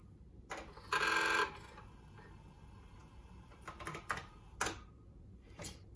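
Sparse keystrokes clatter on an Apple II+ keyboard in short uneven bursts, with one denser rattle near the start, close by and fairly quiet, with no talking.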